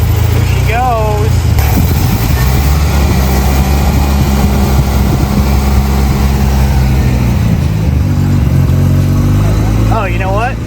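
A 1985 Mazda RX7 GSL rotary engine fitted with a Weber 40 DCOE carburetor cranks with brief starter whines at the beginning and end, while a loud, steady engine rumble runs close by throughout.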